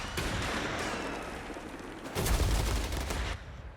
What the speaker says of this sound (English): getting hit by some artillery from the captain